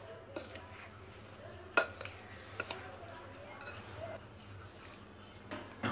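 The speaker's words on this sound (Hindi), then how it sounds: "अचार के पीसेस मसाले में डाल लेंगे मसालों के साथ पीसेस मिला लेंगे" Mango pickle pieces stirred into spice masala, soft scraping and occasional clinks of a spoon against a bowl, faint and close with quiet room hiss between the sharper knocks.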